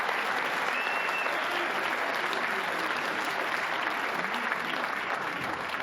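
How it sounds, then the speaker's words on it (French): Loud, steady applause from a large audience at an evening awards ceremony honouring a wrestling coach, dense clapping sustained throughout with a faint crowd murmur underneath. "coach Monsieur Eric Cirque, qu'on peut applaudir bien fort"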